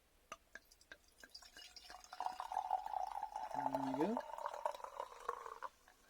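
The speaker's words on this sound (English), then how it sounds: "Let's pour it out and have a look at the colour." Perry poured into a cider glass, trickling and splashing with a rising fill tone as the glass fills, then settling into fizzing; someone speaks briefly near the start of the pour.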